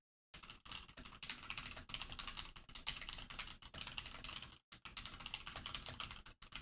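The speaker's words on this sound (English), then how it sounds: "Bro, is my typing good? Let me test real quick." Fast, continuous typing on a computer keyboard, close and fairly quiet, with dense clicking keystrokes and a couple of brief pauses.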